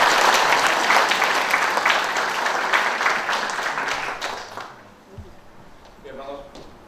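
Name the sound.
audience applause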